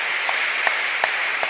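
Applause from a congregation at a church gathering, a steady wash of clapping lasting about a second and a half with a few louder claps standing out, no voices over it.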